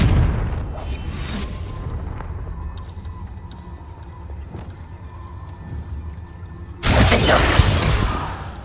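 A Confringo fire spell cast in the game Hogwarts Legacy, set in a cave: a low game ambience with scattered thuds, then a sudden loud, broad blast that roars on for about two seconds at the end.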